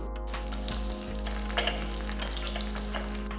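Broken dried red chillies sizzling in hot tempering oil with garlic and curry leaves, a steady close frying hiss with a few faint pops and no talking.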